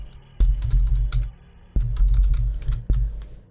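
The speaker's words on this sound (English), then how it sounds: "I know y'all can hear my mouse clicking." Computer mouse clicks during online browsing, sounding as quick sharp taps in two loose bursts with a low background hum, close and fairly loud, no voices.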